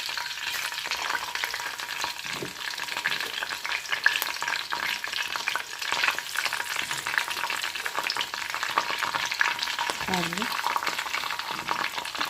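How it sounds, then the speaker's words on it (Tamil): Fish fries in hot oil with curry leaves, a dense, continuous sizzle that stays loud and even throughout, with only faint background noise and no talk over it. "இதை பாருங்கள், மீன் பொரிஞ்சிட்ருக்கு."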